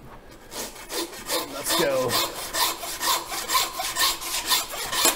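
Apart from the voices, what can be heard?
handsaw cutting through beef knuckle bone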